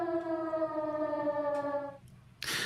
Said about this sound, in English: Should always play air raid sirens.